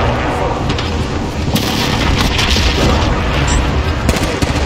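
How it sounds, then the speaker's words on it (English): Heavy booming blasts from a precision airstrike in a first-person shooter, loud and continuous with dense rumbling low end and sharp cracks, a burst near four seconds, with speech faintly underneath. "Enemy precision airstrike."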